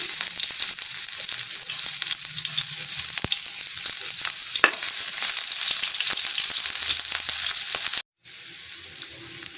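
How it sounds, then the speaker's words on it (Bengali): Chopped onions hitting hot white oil in a heated wok, a loud continuous close sizzle with occasional crackles and stirring, cutting out abruptly near the end and then resuming more faintly. "দিয়ে দিচ্ছি সাদা তেল, দিয়ে দিচ্ছি পেঁয়াজ কুচি"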